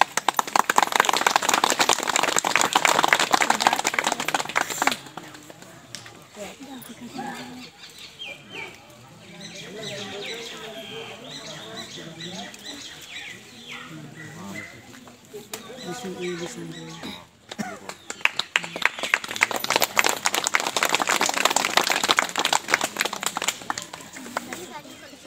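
A crowd gathered for a village prayer ceremony bursts into loud, dense clapping, fades under a stretch of talk and mixed sounds, then swells into a strong round of applause again near the end.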